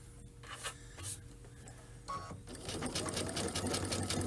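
Home sewing machine running steadily as it stitches fabric for a spring pillow with a zipper foot, a continuous close whirring hum with light rhythmic needle ticking, starting after a few soft handling rustles.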